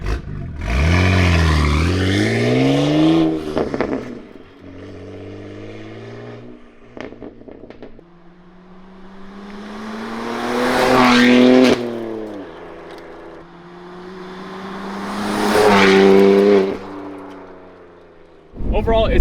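A BMW G87 M2 fitted with a full titanium exhaust revs repeatedly, three rising engine surges with crackles between them, loud and close, with people talking in the pauses.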